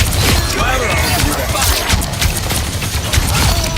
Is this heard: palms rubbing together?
no